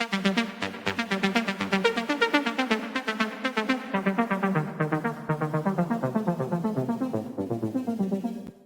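A bright, pulsing synth pattern repeats quickly, then its high end gradually rolls off so the tone turns duller and muffled toward the end.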